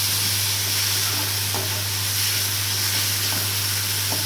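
Tomatoes and a green chili sautéing for paneer bhurji, giving a steady close sizzle with occasional soft stirring taps and a low hum underneath.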